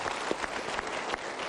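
Brief applause from a studio audience at a televised talk event, a dense patter of clapping lasting under two seconds, moderately loud and without talk over it.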